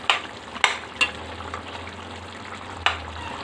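A pot of tamarind-leaf chicken curry with plenty of water cooks on a medium flame, giving a faint, steady bubbling sizzle with a few sharp clicks from stirring. No one speaks.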